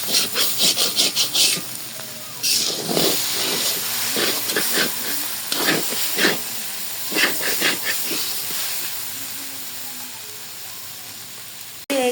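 A potato and papaya bhaji frying in a pan sizzles and hisses loudly at close range, broken by repeated scraping and stirring strokes, then fades to a quieter steady hiss near the end.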